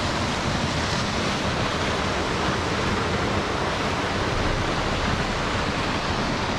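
A forest waterfall pours as a steady, dense roar of falling water, loud and unbroken throughout, with no voices over it.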